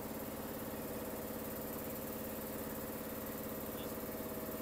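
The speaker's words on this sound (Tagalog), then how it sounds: "So ang pag-check ay dapat nakaandar itong ating makina." A 2021 Toyota Rush engine idles steadily during an automatic transmission fluid check, a continuous even hum at close range with no talk.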